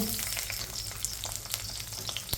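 Onions sizzle and fry in a hot pan for a smoked pork dish, a close, steady crackling hiss with small stirring sounds and no voices.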